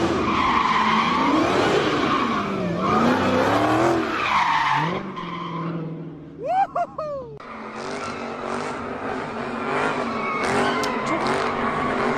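Cars spinning and skidding with loud tire squeals and revving engines, a continuous screeching run with a brief pitched squeal burst midway, heard close and loud without talk.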